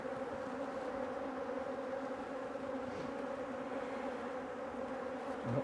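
Honey bees in an open long hive drone in a dense, steady buzz, close and continuous with no voices, a slight breathy puff near the middle as the colony is worked for winter.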